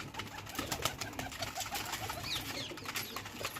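A flock of pigeons and their chicks feed together close by, with soft cooing and scattered pecking taps over a low background murmur.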